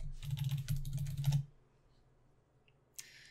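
Quick, close clatter of keys on a computer keyboard for about a second and a half, then quiet with a single later click.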